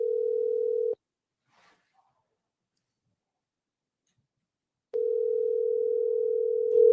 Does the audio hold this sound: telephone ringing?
yes